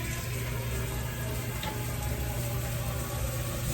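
Water is poured into a pan of sliced peaches being layered for a peach cobbler, giving a steady, continuous splashing flow close by with no talk over it.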